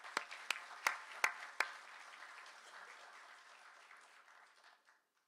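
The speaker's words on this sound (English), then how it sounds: "Please join me once again in a round of applause." Audience applause at an award ceremony: a handful of sharp, separate claps up front, then a soft, diffuse patter of clapping from a modest crowd that thins and fades out over several seconds.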